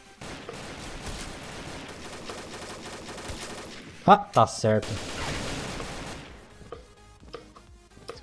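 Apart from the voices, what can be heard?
gunfire in a video game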